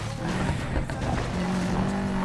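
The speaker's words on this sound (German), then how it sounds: "Der Subaru klingt echt richtig toll." Subaru engine in the racing game Need for Speed Payback, a steady droning hum with a sustained tonal whine, loud and continuous with faint tire noise underneath.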